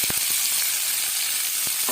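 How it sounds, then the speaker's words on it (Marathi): Onion and tomato sizzle in hot oil with cumin and mustard seeds for ghevda bean bhaji, a loud, steady frying hiss with occasional soft stirring knocks. "आता त्याच्यात टाकते कांदा आणि टोमॅटो।"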